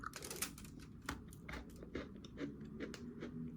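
Close, quiet crunching bites and chewing of a crisp coconut cookie, repeated in short irregular snaps.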